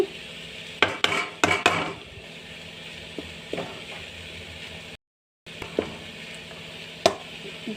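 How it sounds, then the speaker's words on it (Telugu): Coconut and jaggery syrup stirred in a pan for laddu, with scattered scraping and clinking of a utensil against metal over a soft background hiss, busier at first and sparser later. "దీన్ని కొంచెం దగ్గరుండి మాడకుండా తిప్పుతూ ఉండాలండి"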